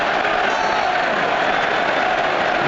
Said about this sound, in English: The crowd are getting loud now, big scrum opportunity